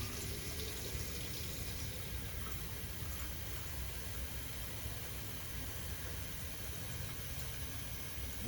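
A bathroom faucet in a fifth-wheel RV runs pink antifreeze through the plumbing during winterizing, making a steady, loud rush of flowing liquid that continues without a break.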